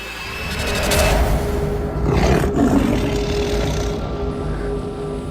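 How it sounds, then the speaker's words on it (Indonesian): A tiger roaring, a deep drawn-out growling roar that swells and falls twice over several seconds, loud and close in a drama scene. "Seperti suara harimau."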